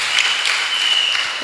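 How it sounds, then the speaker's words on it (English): A crowd at an awards ceremony claps in a steady, dense round of applause. It holds at an even level throughout, with a faint tone running underneath. "Can we give ourselves a round of applause for that?"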